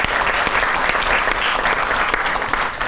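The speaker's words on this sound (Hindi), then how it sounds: "तो इस पर बहुत सी तालियां होनी चाहिए हमारे" A talk show studio audience claps warmly: brief, dense applause at steady volume with no voices over it.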